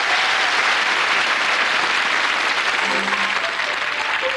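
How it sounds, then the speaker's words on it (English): A studio audience at a TV comedy show breaks into loud, sustained applause, a dense steady roar of clapping. A faint voice runs underneath near the end. "give her a round of applause"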